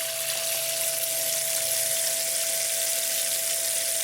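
Steady hose water spreading across a Dreammat micro sluice mat for processing Lake Superior black sand, a loud continuous wash with no talking.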